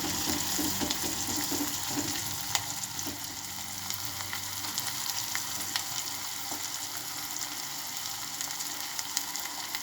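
Chopped vegetables sizzle and fry steadily in a hot pan while upma is being made, a close, continuous crackle with occasional stirring clicks and no talking.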